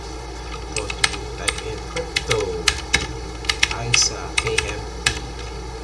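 Crisp, fast keystrokes on a computer keyboard as router commands are entered, irregular clicks and clacks close by, with someone talking over the typing.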